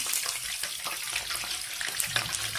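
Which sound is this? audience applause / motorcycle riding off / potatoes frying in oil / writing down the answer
potatoes frying in oil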